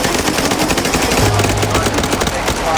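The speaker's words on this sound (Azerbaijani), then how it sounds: "kameralara, otaqlara dayanmadan avtomat silahlarla atəş açıldı" Rapid bursts of automatic weapon fire inside a prison, loud and close, with sharp cracks repeating in quick succession throughout.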